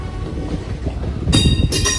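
A train rumbles past on the rails, a steady heavy roar of wheels and carriages that grows louder and brighter toward the end.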